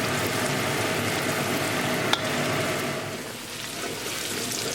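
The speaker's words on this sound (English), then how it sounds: "Cooking green chili for 1 minute with tadka." Green chili frying in a hot tadka of oil, a steady close sizzle hissing without a break, with one sharp click partway through.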